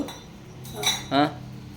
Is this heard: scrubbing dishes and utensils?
yes